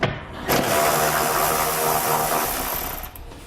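Ratchet with a 13mm socket loosening heat shield nuts under a 2018 Jeep Compass, a fast continuous whirring rasp that begins sharply and holds for several seconds before cutting off, close and alone.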